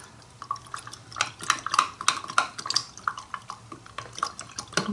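Homemade half-and-half brush cleaner mixture poured into water, heard as a busy run of drips, splashes and light clinks of a container, fairly close, with no talking.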